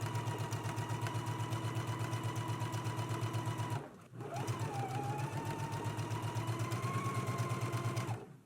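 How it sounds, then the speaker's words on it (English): A sewing machine stitches bias tape onto a beginner's top at a 3/8-inch seam allowance, running in a steady rapid whir with one brief pause midway before the motor resumes. "let's go ahead and stitch in a 3/8 of an inch seam allowance"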